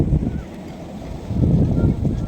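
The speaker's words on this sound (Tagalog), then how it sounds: "medyo malakas ang hangin ngayon" Strong wind buffets the microphone outdoors, a loud, rumbling, uneven roar that swells and eases in gusts with no break.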